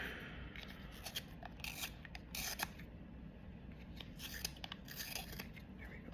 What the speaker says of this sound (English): I might actually sharpen it if I have my little sharpener.